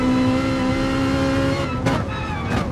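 A Toyota Supra race car engine in a racing video game drones loud and steady at high revs, holding one tone and then shifting pitch, with brief whooshing passes near the end and no talking.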